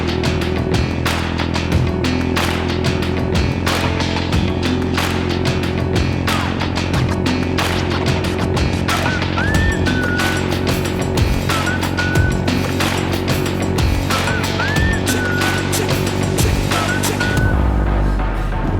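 A motorcycle engine droning steadily while riding through Pennsylvania Amish country farmland, constant loud engine hum and wind rush throughout with no break.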